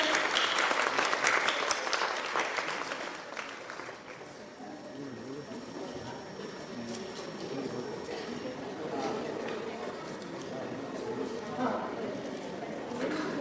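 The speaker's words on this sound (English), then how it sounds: "So give a big round of applause to them." An audience claps for skit performers at a health talk. The applause is loudest at the start, then thins into scattered clapping and crowd murmur with voices talking.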